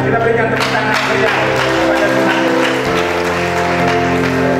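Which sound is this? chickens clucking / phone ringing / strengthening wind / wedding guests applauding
wedding guests applauding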